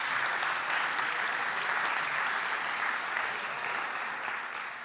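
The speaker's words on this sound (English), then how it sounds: "give him a round of applause as he comes up onto the stage" A large audience applauds steadily as a guest named Dalton, a rugby fan, walks up onto the stage; dense, sustained clapping fills the whole stretch at an even, loud level.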